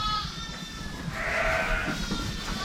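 A few ewes bleat close by on a farm, one clear wavering call standing out over a shuffling, rustling background, with no talking.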